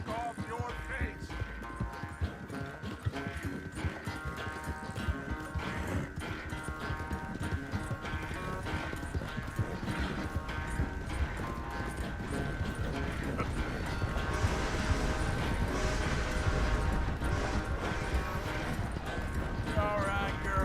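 Horse hooves clip-clopping in the video game Red Dead Redemption 2, a steady rhythmic trot under a dense game soundscape with tack and mechanical rattles.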